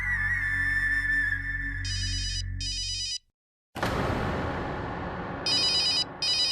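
A mobile phone ringtone sounds in a hospital operating theatre: a steady electronic tone, then repeated bursts of bright ringing, a short silent gap, and the ringing resumes over a background noise wash.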